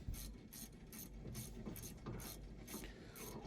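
A ratchet wrench clicks rapidly and evenly, close up, while loosening the brake caliper bolts on a 2011 Toyota Yaris front brake, about a dozen crisp pawl bursts with no talk.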